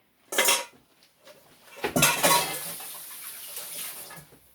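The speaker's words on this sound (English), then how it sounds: "I'm just going to put maybe a quarter of a cup of a little liquid around the edges." Liquid is poured around the edges of chicken in a cooking pan, giving two splashing bursts with a clink of cookware and a trickling tail, close and fairly quiet.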